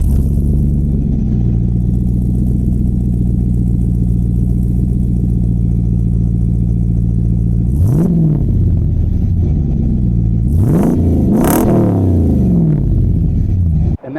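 Jeep with a swapped Hemi V8 idling with a deep, loud rumble, then revved in sharp bursts that rise and fall, close and alone.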